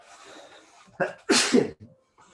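A single person sneezes loudly indoors, a quick sharp intake followed by a forceful burst, close to the microphone and otherwise quiet.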